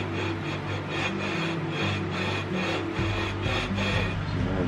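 Sanding wood with fine sandpaper, working the pieces of a custom electric guitar smooth, makes a steady close scratchy rub in repeated strokes, with a low hum underneath throughout.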